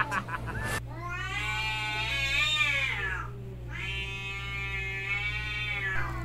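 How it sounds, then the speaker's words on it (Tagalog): Cats meow and caterwaul in long, drawn-out, wavering yowls, two sustained calls close by and loud over a steady low hum, after a few brief sounds at the start. "lintik to mga pusa na to."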